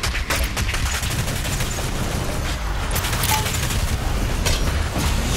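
Big Fudging Gun (BFG) firing in Doom Eternal during a boss fight, a steady, loud barrage of booming blasts and mechanical crunches layered over heavy game noise with no pause.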